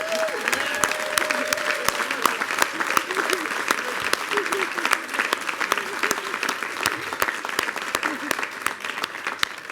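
A crowd at an LGBT Pride reception gives Mayor de Blasio a sustained round of applause, dense steady clapping filling the room for the full stretch, with a few voices and cheers rising faintly within it.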